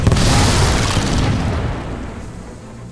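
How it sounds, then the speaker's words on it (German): A single heavy explosion booms in the video game Fable III, loud and close at first, then rumbling and fading away over a few seconds with no voices. "Ja, da schießt doch jemand."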